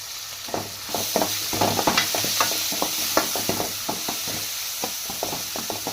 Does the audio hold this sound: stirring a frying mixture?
yes